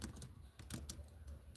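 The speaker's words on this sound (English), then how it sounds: "I'm typing in the wrong spot." Fingers type quickly on a computer keyboard nearby, giving irregular clusters of light clicking keystrokes at a low level with no talk.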